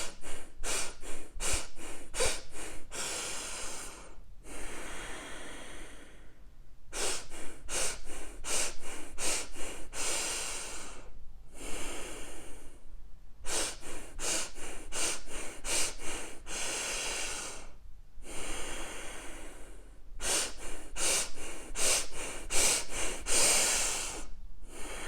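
Deep breathing exercise: a person takes long audible inhales and forceful exhales through the mouth, repeated in steady cycles with brief silent pauses between breaths, close and clear.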